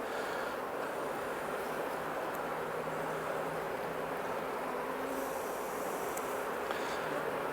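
Honey bees hum from an open beehive during a late July inspection, a dense, continuous buzzing drone that stays steady and close throughout.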